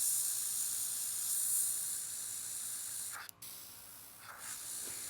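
An airbrush sprays paint in a steady, airy hiss while nail art is done at a workshop, continuous through the clip with brief breaks in the flow toward the end.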